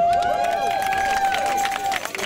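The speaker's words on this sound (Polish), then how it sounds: "Brawa dla niego." Outdoor crowd at a Kashubian folk contest applauding the event's organizer, steady clapping with cheers and a whistle-like tone riding over it, fairly loud and close.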